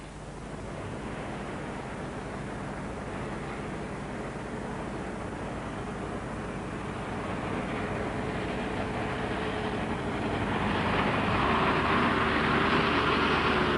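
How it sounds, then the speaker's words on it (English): A Land Rover moves off the tarmac down a loose track and through ruts in the correct gear without wheel spin. Its engine and tyres make a low, steady rumble that swells louder and rougher toward the end. "Through the ruts in the correct gear, no wheel spin, not a slip."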